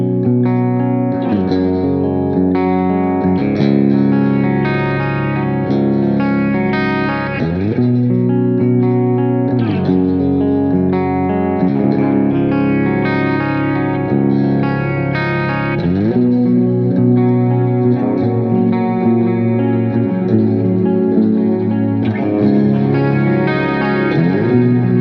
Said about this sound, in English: now we're using that Blues Deluxe sound, but with more reverb, and it's kind of a bigger washy sound